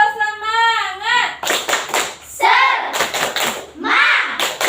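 A class of children does a rhythmic spirit clap, sharp bursts of patterned claps broken up by a teacher's voice and children's chanting.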